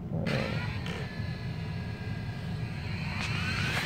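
An XK X380 quadcopter's motors spin up after arming, a steady airy whir with rising tonal whines building and holding close throughout.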